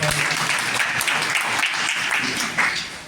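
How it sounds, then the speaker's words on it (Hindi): Audience applause at an orientation program session at DIET Pusa, Samastipur, Bihar, a dense steady wash of many hands clapping close by for about three seconds, with no talking over it. "ताली बजाइएगा"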